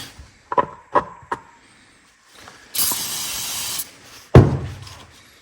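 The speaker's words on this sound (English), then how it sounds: "Put the little car cleaner on that." A short spray of carburetor cleaner on a Nikki carburetor from a 22-26 hp V-twin Briggs and Stratton engine, a close hiss lasting about a second after a few small clicks, followed by a sharp knock.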